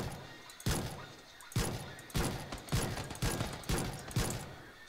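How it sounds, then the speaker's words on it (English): Pistol shots in a multiplayer shooter video game, about six sharp reports at a fairly steady pace, fairly faint and slightly distant, with no talk over them. "Launching pistol shots."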